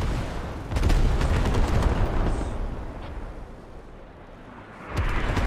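Close artillery fire in the military shooter game Squad, heavy booming blasts and rumbling impacts, loud and near, surging at the start, easing off in the middle, then swelling again at the end, with no talk.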